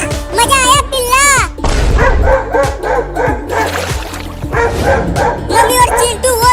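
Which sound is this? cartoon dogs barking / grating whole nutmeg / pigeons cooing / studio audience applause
cartoon dogs barking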